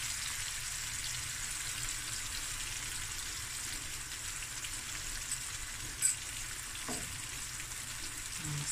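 Onions cooking down in a pan with a teaspoon of turmeric for fish biryani give a steady, soft sizzle throughout, with a brief stir or clink near the end and no talking.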